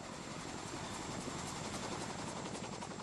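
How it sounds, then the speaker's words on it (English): A low-flying helicopter thrums steadily with a constant rotor beat, fairly distant and even throughout, with no voices. "jumping into the Lake of the Ozarks from a low-flying helicopter"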